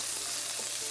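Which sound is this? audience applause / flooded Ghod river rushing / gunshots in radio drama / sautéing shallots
sautéing shallots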